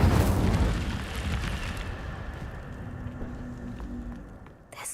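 Incendio fire spell in the video game Hogwarts Legacy, a loud whooshing burst of flame at the start that fades into a lingering crackling rumble.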